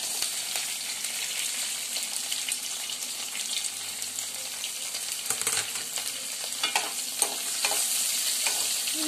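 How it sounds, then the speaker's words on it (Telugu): Onions frying in a pan with curry leaves, finely chopped green chillies and salt until golden brown, a steady close sizzle with stirring clatter and a few soft knocks, no voices. "ఇవి కొంచెం గోల్డెన్ బ్రౌన్ కలర్లో ఫ్రై అవ్వాలి"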